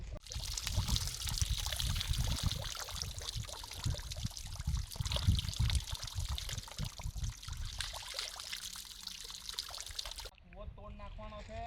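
Canal water near Dabhoi spills over its banks and runs into farm fields, a steady rushing and splashing flow heard close by, with people talking over it throughout.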